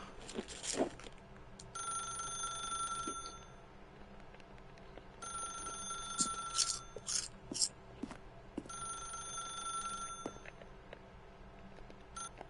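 A telephone rings in The Stanley Parable video game, two long bursts of steady electronic ringing with short gaps between them, alone against a quiet ambient hum.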